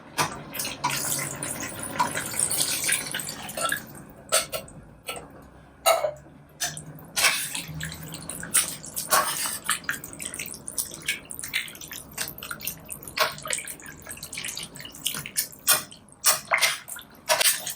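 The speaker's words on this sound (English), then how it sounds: "we want to go ahead and add in 2 cans of water" Two cans of water pour into a pot of tomato vegetable soup coming to a boil, giving a close, steady splashing and trickling with scattered drips and a few louder sloshes, no talking.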